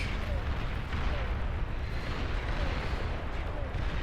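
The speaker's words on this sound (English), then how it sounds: "Arbiters fire these things very similarly to mobile missile launchers." Arbiter units launching missiles in the Beyond All Reason strategy game, a dense continuous rumble of overlapping booms and blasts with no break.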